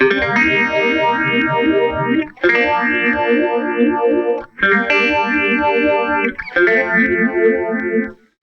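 Electric guitar chords strummed four times for a 1970s disco sound, each ringing out through a swirling, shimmering modulation effect pedal with a rhythmic pulsing texture.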